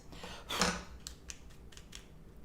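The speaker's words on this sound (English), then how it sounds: "Ooh, maybe I needed thicker scissors." Scissors snip once through thread or fabric during cross stitching, a sharp close cut followed by a few faint light clicks of the blades, with no talking.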